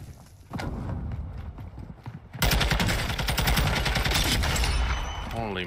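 Dense bursts of rapid gunfire in a video game shootout break out loud and close after a quieter stretch of scattered shots, sustained volleys filling the rest.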